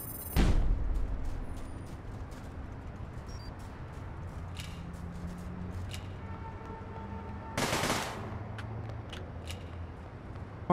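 Gunfire in APB Reloaded sounds as a loud shot at the start and a burst a few seconds later, with scattered sharp cracks and faint clicks over a quiet background.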